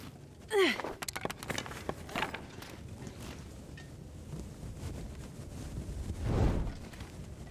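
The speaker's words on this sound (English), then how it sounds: "Sounds a little windy out there." Gusty outdoor wind in the survival game The Long Dark, a steady hollow rush that swells in a couple of louder gusts, with faint footsteps or movement beneath it.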